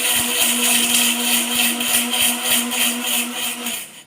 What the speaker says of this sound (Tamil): ஆற வச்சு ஒரு மிக்சியில் பவுட்ரு பண்ணிக்கலாம்